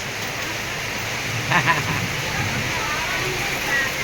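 Rain falling over a busy town market in Thailand, a steady, even hiss of downpour throughout with a brief louder patter midway and people talking faintly beneath it.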